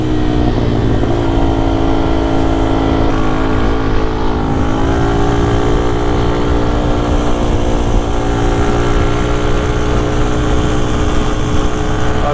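A 125cc WRX supermoto motorcycle engine drones loud and close for the whole stretch, its pitch holding steady with small rises as the bike is ridden, with no voices over it.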